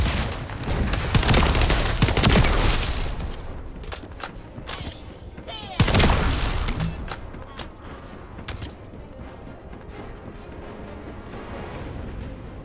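Gunfire in the video game The First Descendant: dense, sustained bursts of shots with heavier booms between them, loud and close, softening in the later seconds behind a continuous wash of game noise.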